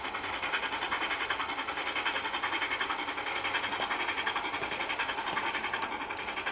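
A train in the Trainz: A New Era video game moves off, its steady rhythmic clatter of wheels over rail joints running continuously at moderate volume with a hissing, metallic edge.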